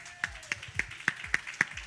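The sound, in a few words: clapping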